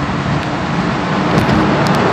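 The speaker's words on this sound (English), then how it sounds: "I'm driving through a tunnel right now, that's why it looks like that." Car driving through a road tunnel, a loud steady roar of tyres and engine with a dense, enclosed wash of traffic noise and no talk.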